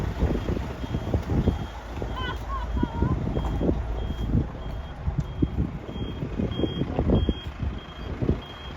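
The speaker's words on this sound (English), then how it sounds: "Got buses as well." Buses reverse on a windy night at a temple gathering, their back-up alarms giving a steady series of evenly spaced beeps over rumbling engines, wind buffeting and crowd noise.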